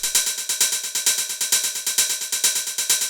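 Solo hi-hat sample for acid techno repeating in a quick, even pattern of sharp, bright metallic ticks, each with a short sizzling decay, loud and unaccompanied.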